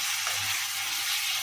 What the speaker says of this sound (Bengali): দিয়ে এবার মশলাটা একটুখানি কষাবো।